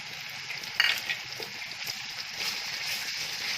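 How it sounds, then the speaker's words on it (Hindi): Onions that have turned light brown frying in a pan after garlic and ginger paste goes in, a steady soft sizzle with a brief louder crackle near the start, close and fairly quiet, with no talk. "तो प्याज हमारे हल्के से ब्राउन हो गए, तो अब हम इसमें डालेंगे लहसुन और अदरक का पेस्ट"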